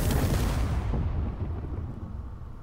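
Heavy weapon fire striking armor panels in the Space Engineers video game, a loud booming blast with a rumbling decay that fades over a couple of seconds, with no talking.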